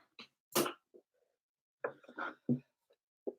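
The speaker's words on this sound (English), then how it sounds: "I know I have a cough" A few short, harsh coughs and throat-clearing bursts, close and fairly loud, separated by pauses.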